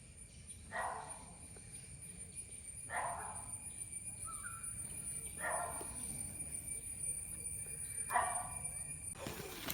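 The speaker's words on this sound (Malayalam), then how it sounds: "പട്ടി അവിടെ കുരയ്ക്കുന്നുണ്ട്" A dog barking in the distance, single faint barks spaced a couple of seconds apart over a steady drone of crickets.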